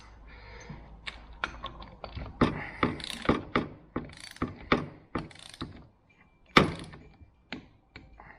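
A cheap little torque spanner set to 30 Newton meters clicks repeatedly while tightening during a front axle rebuild, giving a series of sharp, close ratchet clicks at an uneven rhythm with brief pauses between bursts.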